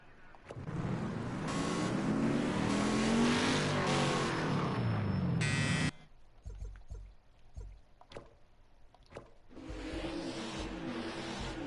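A pack of stock cars starts a 50-lap race at Mazda Raceway Laguna Seca in Project CARS 2: engines roar and rev loudly for several seconds, then drop to quieter passing engine noise and clunks before the roar swells again.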